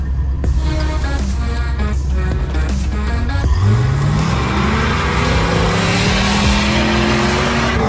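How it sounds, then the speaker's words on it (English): A Jeep V8 engine revs hard as it claws up a snowy trail hill in 3-wheel drive, loud and close, its roar sweeping upward in pitch and holding a steady strained drone, with no voices. "Let's just take another moment to enjoy this V8 as Tyrone tries to climb up this hill in 3-w"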